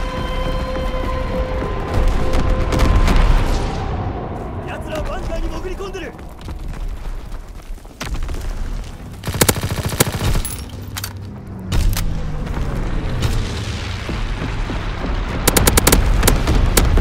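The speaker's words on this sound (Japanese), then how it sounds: "低高度からの空爆を行う。" Loud low-altitude air strike in Call of Duty: WWII, with heavy booming explosions and sustained bursts of gunfire rolling through the whole stretch, some blasts standing out sharply above a constant battle din.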